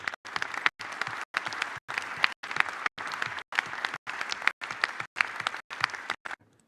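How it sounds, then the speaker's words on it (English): A crowd applauds to thank an event contributor, sustained even clapping that is repeatedly cut off by brief silent gaps, then stops at the end. "So please join me in a round of applause."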